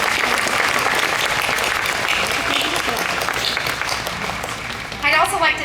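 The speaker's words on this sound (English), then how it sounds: "Please join me in giving a round of applause for our incredible faculty and staff" A graduation ceremony crowd gives a loud, continuous round of applause for faculty and staff, thick clapping holding steady throughout before easing slightly at the close.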